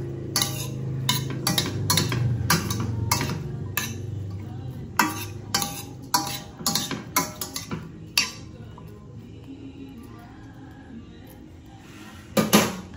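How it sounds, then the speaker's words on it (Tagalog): Pinangat na dilis, anchovies cooking in a pot, stirred with a metal utensil: irregular bursts of clanking and scraping against the pot, some rapid clusters, over a low simmering background, close and clear. "Tapos haluin natin siya guys."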